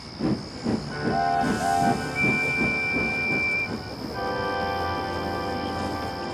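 A steam train rumbles and hisses while shrill steam whistle tones sound over it, a few short toots followed by a longer sustained whistle.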